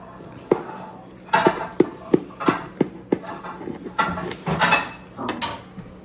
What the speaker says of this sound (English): So now we're gonna cut it with my bread knife, one-handed.